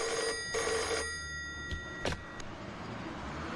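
A telephone rings indoors in two or three close, bright electronic bursts, then goes quiet apart from a couple of short clicks and low room noise.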